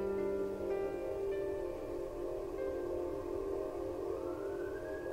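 Police siren in the Roblox video game, a steady wailing tone that holds and then rises toward the end, clear and fairly loud over a quiet background.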